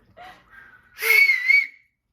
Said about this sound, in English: Can I do a last whistle?